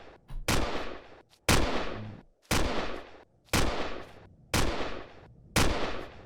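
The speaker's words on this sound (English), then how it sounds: "there's somebody firing" Enemy gunfire in Empyrion Galactic Survival: six loud, sharp shots at roughly one-second intervals, each cracking hard and trailing into a short decaying rumble, with no talk over them.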